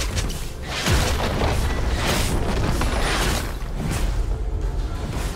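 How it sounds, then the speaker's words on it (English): A turret being destroyed in League of Legends, a dense rumbling boom with crumbling debris and whooshing effects sustained over several seconds amid busy game sounds. "Blue team's turret has been destroyed."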